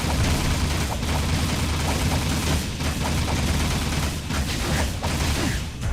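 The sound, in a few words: gunshots from the video game Jak 2: Renegade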